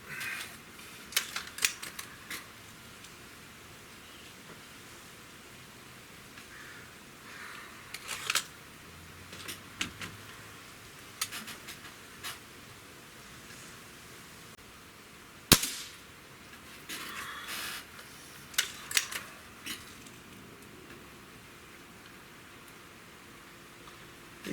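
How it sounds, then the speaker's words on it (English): Diana RWS 34P Pro Compact air rifle firing Barracuda pellets: a series of sharp, spaced shots with brief crack-like transients over a low background hiss, moderately close, no talking. "I'm going to shoot 5 with the Barracuda"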